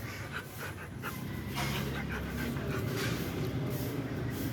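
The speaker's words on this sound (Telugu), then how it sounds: "వెరీ స్వీట్ డాగ్స్ ఇవన్నీ" Several friendly street dogs pant heavily and scramble up close, with rapid breathy panting and soft whimpers continuing steadily throughout, loud and near.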